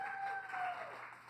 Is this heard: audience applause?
yes